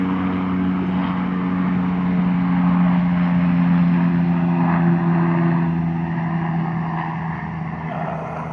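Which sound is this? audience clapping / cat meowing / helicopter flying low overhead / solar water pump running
helicopter flying low overhead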